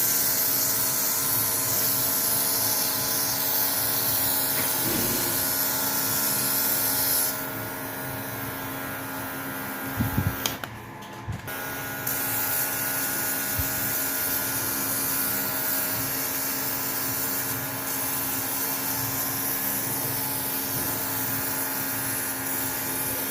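Colour is airbrushed through a stencil onto a square cake, a steady hissing spray with a compressor hum running underneath, broken by a short pause and a few clicks midway before the spraying resumes.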